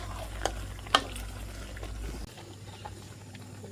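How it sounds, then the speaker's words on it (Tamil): Christmas dodol frying in oil while being stirred gives a soft, steady sizzling hiss with a couple of sharp scraping clicks from the spoon, and the sound grows quieter near the end. "எண்ணெயில் பொரிக்குது, இது நல்லா பொரிக்க வேணும்."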